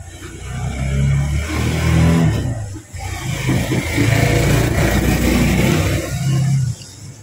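A habal-habal motorcycle engine revs steadily up close, loud and continuous with a brief dip midway, running alone without talk.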